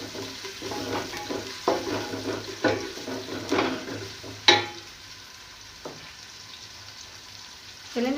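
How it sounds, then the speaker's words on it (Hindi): Onions frying in cooking oil in a pan on a home stove, a steady close sizzle broken by several sharp stirring scrapes and clinks that ease off toward the end, with no talking. "प्याज ब्राउन करेंगे पहले हम। मैं ये प्याज डाल रही हूँ।"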